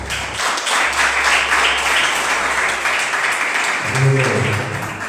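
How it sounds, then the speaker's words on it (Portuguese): Congregation clapping hands during a Lord's Supper church service, a steady, dense roar of applause filling the hall, with a voice and a low tone entering toward the end. "As palmas, Pai Jesus"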